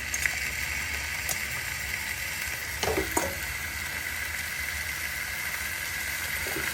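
Short ribs sizzle steadily as they roast in a hot pan, a continuous close frying hiss with a couple of brief scraping clinks partway through.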